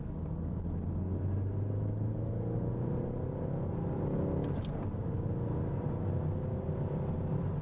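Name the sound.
Ford Focus ST car engine driving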